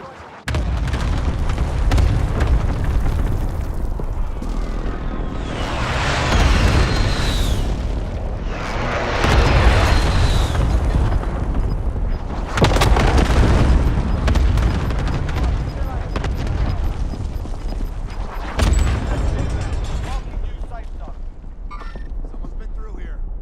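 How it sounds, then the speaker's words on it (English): Heavy booms from an allied cluster airstrike in a shooter video game roll in as several deep blasts spread over about twenty seconds, loud and close, with game dialogue over them. "Allied cluster strike inbound. Be advised, friendly precision airstrike."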